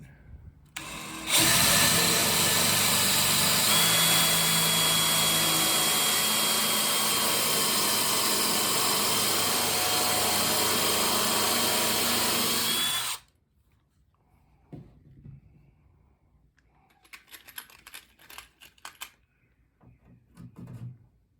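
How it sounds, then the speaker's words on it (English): A power drill countersinks a hole for quarter knee installation on a Nutshell pram, whirring loud and steady for about twelve seconds before stopping abruptly, followed by faint handling clatter. "what we're doing is countersinking the hole first for them to be attached"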